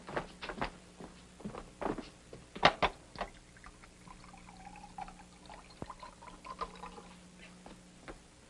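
A glass of water is poured in an indoor scene from the colorized sitcom Susie, heard as a quiet trickle among soft footsteps, clinks and light handling noises, with no voices.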